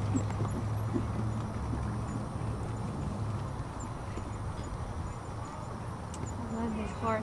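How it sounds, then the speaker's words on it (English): Horses being ridden in a dressage test, with soft, steady hoof clip-clop in the background while people talk over it. "I love these horses."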